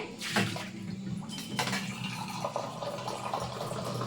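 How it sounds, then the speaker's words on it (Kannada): Water is poured into cooking oil brinjal curry, a short splashing pour with a gushing, bubbling hiss at close range. "ನೋಡಿ ಇವಾಗ ನಾನು ಇನ್ನೊಂದು ಸ್ವಲ್ಪ ನೀರು ಹಾಕ್ತೀನಿ."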